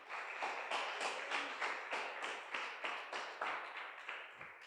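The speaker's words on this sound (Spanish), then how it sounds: "Denle un fuerte aplauso" Faint, distant applause during a Spanish-language church worship service, an even rhythmic patter of clapping hands that stays steady throughout and fades slightly at the end.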